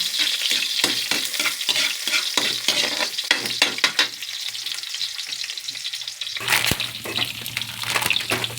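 Garlic and onion frying in a pan, loud crackling sizzle with rapid scraping strokes of stirring early on, then a steadier hiss with a brief clatter partway through.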